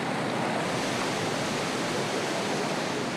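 River rapids on the Congo River in the Democratic Republic of the Congo, a loud, dense, continuous roar of rushing whitewater filling the whole clip with no pauses, close and steady, with no voices.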